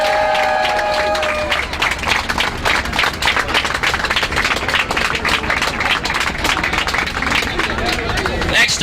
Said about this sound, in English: let's give them a round of applause for working with us today